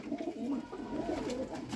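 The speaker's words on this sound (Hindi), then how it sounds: "माशाल्लाह बड़ा कबूतर है" A large golden pigeon of the Miyan Sahib line, a red-eyed breeder bird, gives low throaty coos in close, steady overlapping phrases for a couple of seconds, with no talking.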